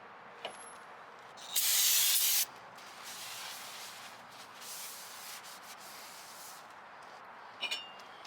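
Aerosol brake cleaner sprays onto a new car brake rotor in one loud hissing burst lasting about a second, followed by quieter rubbing and a couple of short clicks, with no talk.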